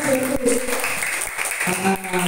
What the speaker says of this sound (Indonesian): silakan tepuk tangan dulu buat Mas Baru